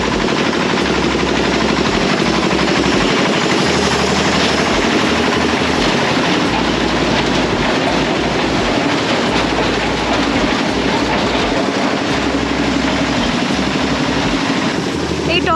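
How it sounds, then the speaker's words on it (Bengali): A toy train ride runs at Subhas Mela fair in Kankurgachi, Kolkata, giving a steady rumbling, clattering rhythm with repeated mechanical knocks amid loud, continuous fairground crowd noise throughout. "এই দেখো দূরে এখানে কিন্তু টয় ট্রেন চলছে,"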